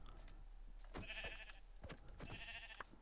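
Two sheep bleats from the Minecraft video game, each a wavering nasal cry about half a second long with a pause between, over soft mechanical background and a low hum.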